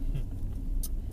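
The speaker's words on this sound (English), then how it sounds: "we're in the car headed to Virginia" Inside a car on a road trip to Virginia, a steady low road rumble and engine drone fill the cabin, with a brief hiss near the end.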